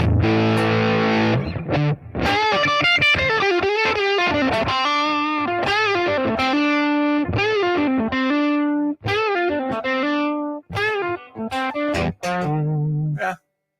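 Electric guitar through a Spark amp with a Southern rock tone effect switched on, giving a crunchy, driven sound. It plays loud strummed chords and riffs with a few brief gaps and no talking.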